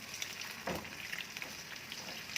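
Scrambled egg frying in a pan with white pepper and celery for raisin fried rice: a faint, steady crackling sizzle with a brief stirring scrape partway through, no voices.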